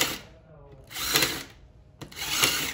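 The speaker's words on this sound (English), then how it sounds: "Always countersink before you screw it in." A power drill countersinks and drives screws into barrel wood while a chair is being built: two short, close whirring bursts, each about a second long, separated by a quiet pause.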